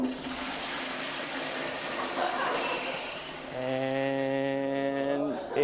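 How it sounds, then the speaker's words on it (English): A toilet flushing with a credit card dropped into the bowl, a rushing watery hiss filling the first few seconds before a second, tonal gurgle and refill sound takes over near the end, with no talk. "we flushed some poor innocent guy's credit card down the toilet"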